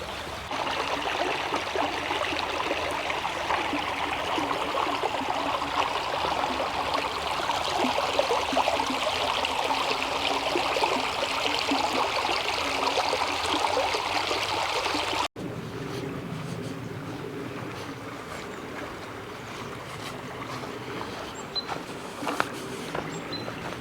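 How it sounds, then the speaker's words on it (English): The river Neckar in southern Germany, heard as a dense continuous rush of flowing water that holds steady for about fifteen seconds, then an abrupt cut to a quieter, thinner outdoor ambience with faint scattered sounds. "This down here is the river Neckar."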